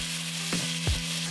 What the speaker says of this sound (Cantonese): 然後將牛柳炒至8成熟